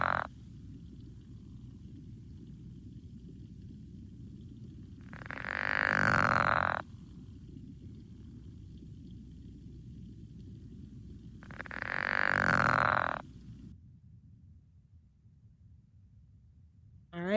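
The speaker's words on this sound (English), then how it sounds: "so that is our friend the pickerel frog" Pickerel frogs call from a wetland, giving two loud, snoring croaks about six seconds apart, each lasting under two seconds, over a steady low background of distant chorus and insects.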